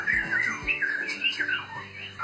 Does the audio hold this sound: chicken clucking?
no